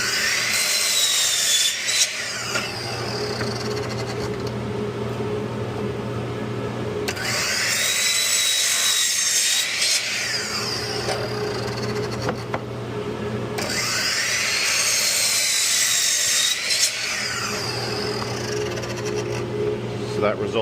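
A power saw cuts cedar boards for a planter box, three loud whining cuts spaced several seconds apart over a steady motor hum, close by.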